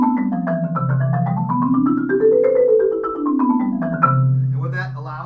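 A four-mallet scale rings out on a marimba-style keyboard percussion instrument, notes rising smoothly then falling back down in a quick, even rhythm, close and clear, with a brief clatter near the end.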